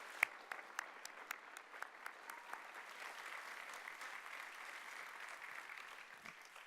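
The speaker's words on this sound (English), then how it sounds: "give the head boy, the head girl, and Year 9 a big round of applause" At a British school Year 9 promotion ceremony, an audience applauds steadily for several seconds, the dense, fairly distant clapping carrying a few sharper individual claps over the crowd.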